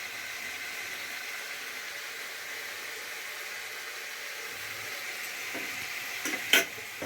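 Spice paste for an egg curry with farm hen eggs and sour yogurt fries in oil with a steady, soft hiss, ending in a few brief louder stirring scrapes.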